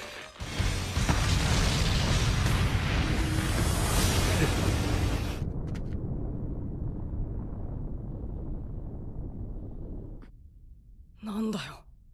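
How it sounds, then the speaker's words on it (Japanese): Anime paper bomb tags explode in a loud, sustained roaring blast filling the first several seconds, then a lower rumble lingers and fades, followed by a brief short sound near the end. "あれは起爆札の爆発だ"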